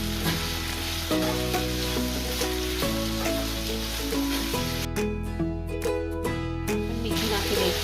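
Tindora and potatoes fry and sizzle steadily in a pan while being stirred. The crackling stays loud and close throughout, with periodic scraping strokes and a brighter, spattering burst near the end.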